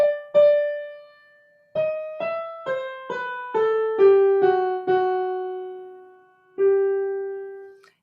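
Piano playing the second line of Mozart's Minuet K6: a clear, close single melodic line of sustained notes stepping downward, with a held opening tone, a steady run of notes and a final long note ringing out, no talking.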